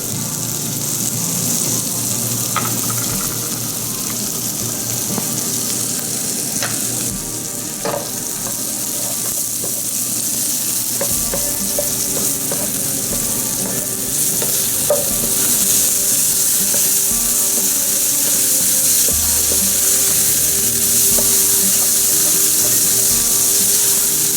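Meat with green chilies fries in a pan with a loud, steady sizzle and crackle and occasional stirring scrapes, continuing without a break and with no talking.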